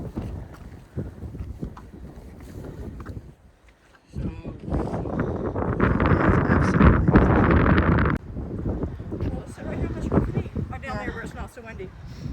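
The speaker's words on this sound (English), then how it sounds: "So windy." Strong gusty wind buffets the microphone on an exposed rocky summit along a Virginia trail near McAfee Knob and Tinker Cliffs, loudest in the middle, with hikers talking before and after the gust.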